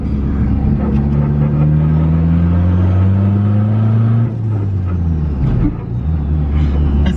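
A Mitsubishi Evo with a turbocharged 4G93 SOHC engine and no exhaust runs loud and close, its raw drone rising in pitch as it revs, then dropping off briefly before picking up again.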